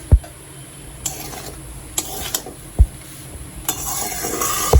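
Cooked rice being stirred into capsicum pulao in a pan, giving close scraping and rubbing strokes of a spatula with a few sharp knocks against the metal, sounding alone with no talk.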